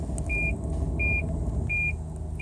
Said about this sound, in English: the beepers from the sensors that are in front of the car are going to start telling me, hey, I'm close to the car in front of me